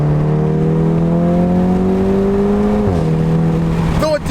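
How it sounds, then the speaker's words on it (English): A Volkswagen Golf R with an AWE SwitchPath exhaust revs loudly and steadily, the engine note climbing slowly for about three seconds before dropping sharply, then blipping again with a crackle at the end. "This exhaust sounds a lot better than I thought it was going to"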